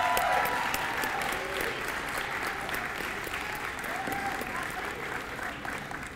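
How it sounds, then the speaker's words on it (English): Audience applause for graduating dual enrollment students at a 2019 celebration, a continuous crowd of clapping hands sustained for several seconds with scattered voices mixed in. "everybody give them a round of applause"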